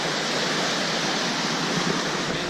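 Intense river rapids at Yellowstone, where the calm river drops into a canyon, roar as a loud, steady broadband rush of churning whitewater with no break or voice.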